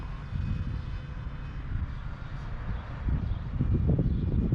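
A performance-modified RC model jet flies past, its engine roaring steadily and swelling louder toward the end as it comes back around for a landing.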